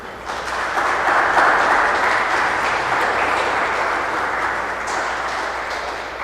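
A congregation at a Mass claps steadily in sustained applause, dense and fairly loud, holding at an even level before easing slightly toward the end.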